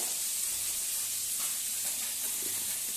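Fish frying in hot oil, a steady, fairly quiet hiss and sizzle with no other sounds.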